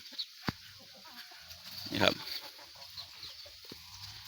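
Fighting cocks call and cluck from a backyard coop among bamboo in a breezy rural yard. One louder burst stands out midway over steady wind and rustle, and someone speaks briefly.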